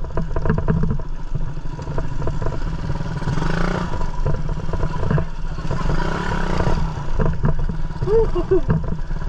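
A red Suzuki Raider 150 motorcycle rides along a muddy road, its engine a steady low rumble with rattling and clatter throughout, while a rider talks over it.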